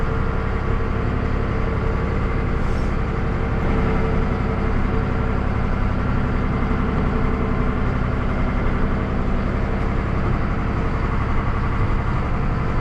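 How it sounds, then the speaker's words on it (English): A heavy tractor engine idles and rumbles continuously on a dairy farm, a steady low drone with no pauses and no voices. "now I'm gonna take the tractor mix across and park it"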